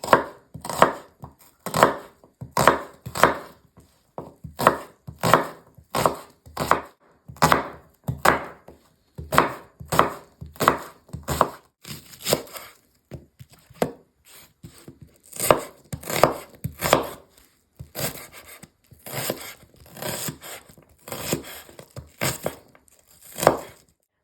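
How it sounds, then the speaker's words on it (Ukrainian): Three onions being cut fairly coarsely with a knife on a cutting board while preparing the fried base for borscht: steady, rhythmic chopping strokes in close, crisp bursts with brief pauses, no talking. "Я взяла три цибулинки. Будемо нарізати не дуже дрібненько."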